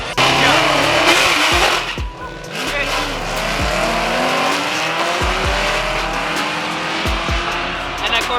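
A Corvette launching at a drag strip, a loud roaring engine with squealing tires and rumbling passes, mixed with crowd noise and talk.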